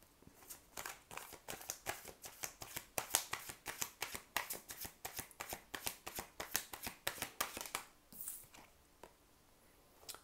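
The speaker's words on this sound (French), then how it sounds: "je vais rajouter une carte" Tarot cards shuffled by hand at close range, a rapid run of crisp riffling slaps and soft card flicks in a steady rhythm, ending with a few separate cards drawn and set down.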